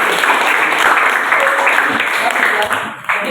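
A classroom group claps together in steady, dense applause throughout, with some voices mixed in and the clapping fading slightly near the end.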